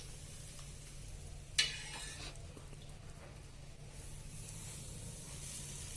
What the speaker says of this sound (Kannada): Add heated oil to this while making the Dow.